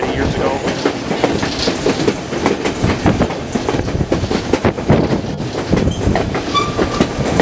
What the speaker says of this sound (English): it's much cooler riding the train